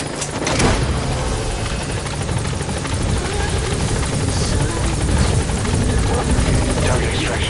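A support helicopter hovers at a landing zone in Metal Gear Solid V, its rotor a loud, steady, close drone with dense wideband noise throughout, and faint game sounds mixed in.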